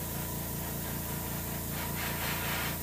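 An airbrush hisses steadily and faintly as paint is sprayed onto the tail of a hybrid striper fish mount for taxidermy, a soft continuous spray with slight pulses.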